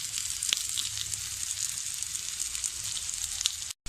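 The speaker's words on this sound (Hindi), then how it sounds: "1 मिनट तक हम शिमला मिर्च को भूनेंगे" Capsicum fries in a pan for aloo manchurian, a steady hissing sizzle up close with a few sharp crackles and spatula clicks, faint and even, briefly cut to silence near the end.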